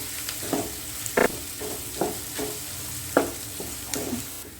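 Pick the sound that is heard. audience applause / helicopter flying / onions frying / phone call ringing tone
onions frying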